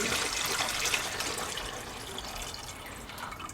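Rinse water drains from a container of home-grown bean sprouts, a continuous close splashing and trickling pour that slowly eases off over a few seconds, with no talking.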